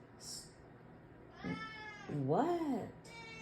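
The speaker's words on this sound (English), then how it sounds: "The cat is loud." A cat meows loudly nearby, two drawn-out, wavering calls after a short soft squeak, with a quiet background.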